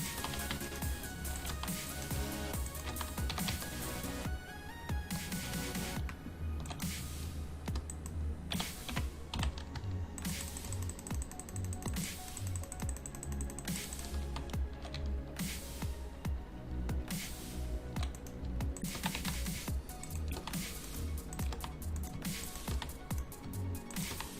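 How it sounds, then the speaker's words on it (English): Fast, furious mouse and keyboard clicking during a Minecraft Skyblock modded gaming session, a dense continuous clatter of rapid taps running steadily throughout under faint background game sound. "Furious clicking."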